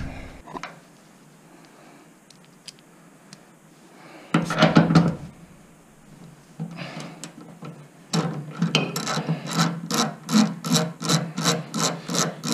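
A half-inch socket wrench ratchets bolts off a 1928 Falcon Knight during restoration, with scattered clicks and scraping early, then a burst of ratcheting and a rapid, regular run of loud clicking strokes close by.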